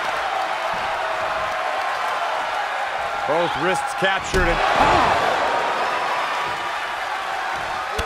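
A continuous roar from a virtual arena crowd in the WWE 2K23 wrestling video game, during an NXT match, swells steadily beneath a commentator's voice, with a few sharp impact slams breaking through midway.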